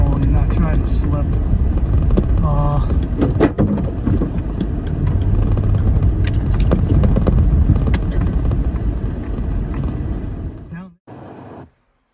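A 2007 Toyota Highlander with about 200,000 miles climbs a hill in low gear, its engine a steady, loud rumble from inside the cabin that cuts off abruptly near the end, with talking throughout.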